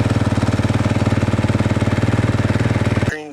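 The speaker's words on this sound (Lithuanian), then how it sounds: "Prieš keičiant tepaliuką, nepamirškit pašildyti motoriuką." An engine idles and is warmed up before an oil change, giving a steady, loud, rapid rhythmic chugging close by for about three seconds before it cuts off abruptly.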